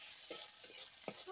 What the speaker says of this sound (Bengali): এটা একটু ভেজে নেওয়া ভালো করে নেবে।